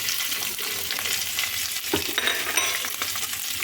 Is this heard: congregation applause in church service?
no